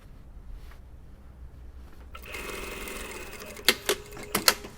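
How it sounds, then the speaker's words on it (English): A sewing machine stitches a straight line along the hem of a lined, dartless jacket, starting up after a quiet moment into a steady mechanical whir, then ending with a few sharp clacks near the close. "we're going to continue to sew in a straight line"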